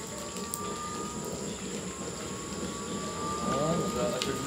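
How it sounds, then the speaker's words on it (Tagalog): Used motor oil boiling in a 10-inch diameter chamber of a waste-oil stove, with water trapped inside causing a steady bubbling rumble and crackling spatter, fairly loud and continuous, with brief voices and tonal whines in the background. "parang kumukulo kasi yung langis ko, baka may tubig eh"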